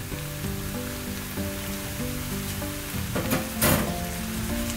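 Meat fries in a hot pan for pad see ew, a dense, continuous sizzle with a brief louder burst of stirring near the end, over soft background music.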